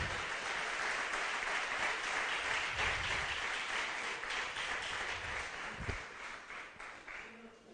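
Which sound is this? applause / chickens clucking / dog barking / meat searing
applause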